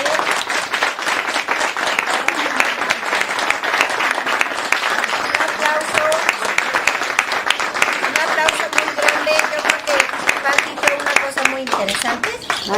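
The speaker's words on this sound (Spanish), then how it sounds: "Yo creo que merecen un aplauso muy grande." A big round of applause from an audience after a fourth-grade timeline performance, dense steady clapping for about twelve seconds with voices calling out over it.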